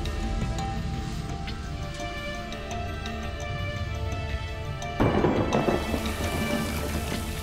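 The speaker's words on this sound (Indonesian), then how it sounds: "Nanti aja tunggu hujan reda deh." Heavy rain pours steadily in the background with a low rumble of thunder, a sharper burst of downpour or a thunderclap swelling near the end, no voices present.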